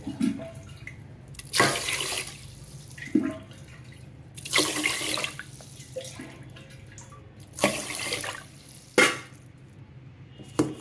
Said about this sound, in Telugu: రైస్ తీసుకొని శుభ్రంగా కడిగేసుకొని దీంట్లో గ్లాసుకు 2 గ్లాసులు వాటర్ పోసుకొని